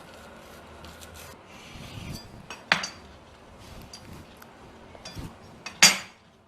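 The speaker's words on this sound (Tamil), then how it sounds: "4 துண்டாக கட் பண்ணுங்க." A knife cuts a vegetable cheese toast into four pieces on a plate, giving soft rubbing scrapes and a couple of sharp clinks against the dish, close and fairly quiet with no talking.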